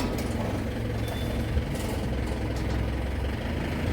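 A tempo truck's diesel engine idles steadily after arriving, a continuous low rumbling drone close by with a faint high tone briefly over it and no talking.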